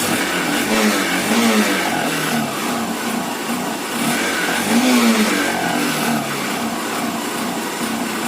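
A motorcycle engine, just started after sitting unused for 32 days, runs steadily and revs up a couple of times, loud and close, with no talking.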